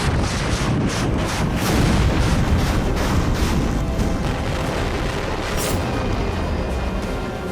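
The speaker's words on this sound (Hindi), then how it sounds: "हर तरफ जोरदार धमाके" Continuous heavy booms and rumbling blasts from rocket launchers and artillery in Ukraine, dense and loud throughout, at mid distance.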